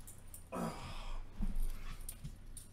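A pet dog named Philbur gives a soft whimpering whine close by, with a brief yawn-like vocal sound and light breathing, brief quiet noises between them.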